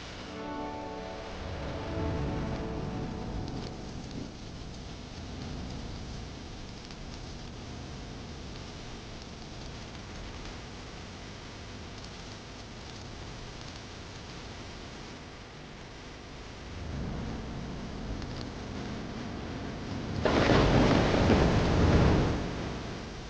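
Steady rain falls, a soft broadband wash that swells near the end, with a low rumble like distant thunder early on, no voices.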